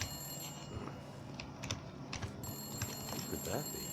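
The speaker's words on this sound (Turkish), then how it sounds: "Telefon." Telephone ringing inside the survival game The Long Dark, a few faint repeated rings under a low rumble of background noise.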